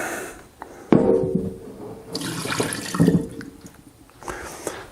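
Water splashes and runs into a cooking pot in uneven bursts, close by, with clattering and sloshing between pours and no talking.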